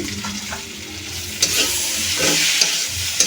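Fried potato and carrot pieces are stir-fried into a cauliflower curry, a loud close sizzle with repeated scraping and clacking of a spatula against the pan, no speech.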